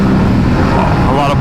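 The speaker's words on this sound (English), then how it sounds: "Oh my God, the pops." Aprilia RS457 motorcycle fitted with an SC Project S1 exhaust, riding at speed with a steady loud engine drone and irregular crackling pops from the exhaust, a voice talking over it.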